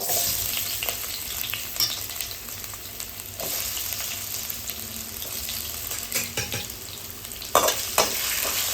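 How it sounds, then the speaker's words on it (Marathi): Potatoes sizzle in hot ghee with cumin in a large pan (kadhai), a steady close frying hiss broken by occasional stirring scrapes and clatter, with no talk. "आता तूप गरम झालं आहे, जिरा घालायचं आहे. ते घालायचं आहे बटाटा."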